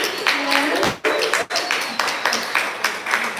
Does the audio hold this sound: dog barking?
no